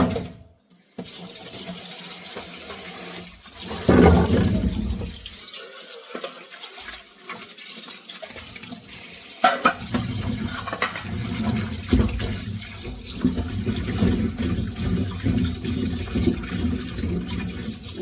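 Chopped vegetables are washed under running tap water in a sink, with a steady gush of water, brief pauses, and splashing and sloshing as the pieces are rinsed.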